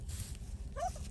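A tiny dog in the snow on a beef and sheep farm gives a single short whimpering yip near the end of a brief moment, faint and close over low outdoor rumble.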